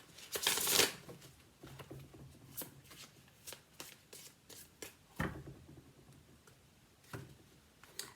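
Modern Spellcasters Tarot cards are shuffled by hand, with a loud riffle at the start followed by softer irregular slides, taps and flicks of the deck.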